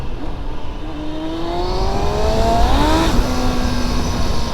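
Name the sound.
Yamaha R1 motorcycle engine running while riding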